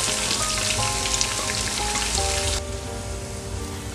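Onions frying in hot oil alongside garlic for Chittagong-style Mejbani beef, a steady loud crackling sizzle throughout that drops somewhat in intensity partway, with faint tonal background sounds and no talk.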